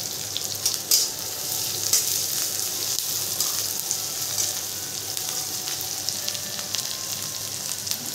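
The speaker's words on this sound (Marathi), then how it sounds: "जिरी मोहरी टाकली, कांदा टाकला, तेलामध्ये फ्राय करून घेते आता चांगलं" Cumin, mustard seeds and chopped onion fry in hot oil, giving a loud, steady, close crackling sizzle with brief spits and a few clinks, with no voices over it.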